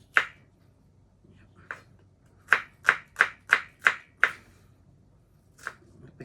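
Knife chopping shallots on a board while preparing paste for Thai pla ra bong: sharp, crisp strokes, a few spaced singly and a quick run of six even chops in the middle, close and clear.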